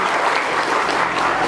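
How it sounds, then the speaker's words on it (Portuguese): An audience at a poetry reading and performance breaks into loud, dense applause, a brief, steady burst of many hands clapping without any talk. "Eu também peço aplausos para a nossa rotina."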